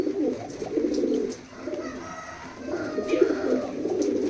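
Pigeons in a breeding loft coo in low, rolling repeated calls, close and fairly loud, with a faint background rustle.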